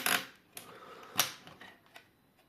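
Prying open a push button on a 1980s Elektronika S3-22 calculator being taken apart, giving a few sharp plastic clicks and snaps, one crisp burst near the start and another midway, with small faint ticks between.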